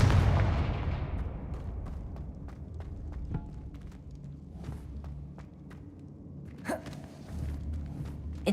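Confringo blasting spell explosions in Hogwarts Legacy, heard as a loud opening blast that decays, followed by a series of sharp, repeated impacts and thuds over a low rumbling game background.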